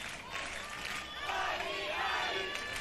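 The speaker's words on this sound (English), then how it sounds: "The crowd living every point through this" A crowd at a beach tennis World Cup semi-final cheers and shouts, a dense roar of voices swelling and peaking in the second half.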